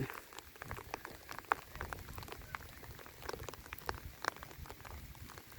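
Soft rain patters on a surface with scattered drops tapping irregularly, fairly quiet and steady, no voices.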